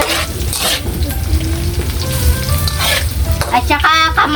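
Adobong kangkong with onion frying in a pan, a steady loud sizzle with scraping stirring strokes throughout, close and continuous, no talking.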